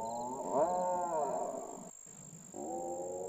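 The mating call of a Carnotaurus, the apex predator of a floodplain in La Colonia, Argentina, comes as a strange, deep, harmonic roaring groan. Two bellowing calls are broken by a short silence, fairly close and without talk.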